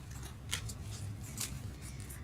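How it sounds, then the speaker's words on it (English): A deck of tarot cards being shuffled, a soft continuous riffling and papery swishing with a few sharper snaps, close and fairly quiet. "we're gonna go ahead and shuffle that again just to be sure."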